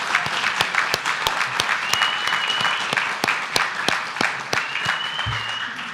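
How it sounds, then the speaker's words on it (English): People at a city council meeting give a round of applause, sharp individual claps rising distinctly out of softer clapping, with a thin whistle drawn out twice over the top. "a round of applause, please, please"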